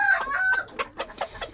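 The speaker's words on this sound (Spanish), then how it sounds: "Un gallo de mucha rienda." A gamecock, offspring of a black Sumatra hen, crows loudly up close with a drawn-out call, then gives a string of short, sharp clucks in an uneven rhythm.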